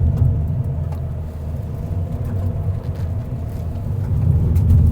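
Steady low rumble of a 2026 Toyota Veloz Hybrid zigzagging at about 40 km/h, with road noise and engine hum rising and falling slightly, heard from inside.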